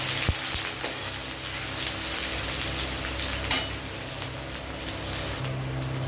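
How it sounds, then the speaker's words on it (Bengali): Chopped onion and garlic sizzle in hot oil over a tempering of bay leaf and dried red chilli, a steady close frying hiss with occasional soft clicks and pops as they cook for a chicken-and-egg khichuri. "এবারে তেলের মধ্যে দিয়ে দিচ্ছি পেঁয়াজ আর রসুন, এটাকে ভালো করে ভেজে নেব।"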